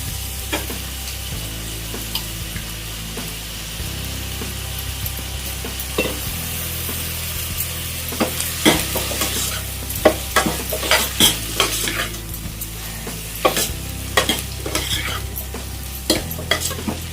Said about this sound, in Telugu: ఆలు మంచిగా వేగాలండి.